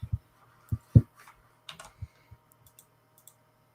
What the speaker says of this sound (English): It's mechanical keyboard. They're great, but they are noisy.